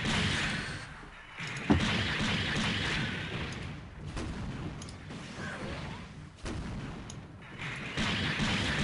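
Cherudim Gundam SAGA firing in SD Gundam Online, a sniper-type mobile suit shooting beyond visual range; a sharp crack stands out over steady mechanical game noise and dense ambient rumble, with no speech.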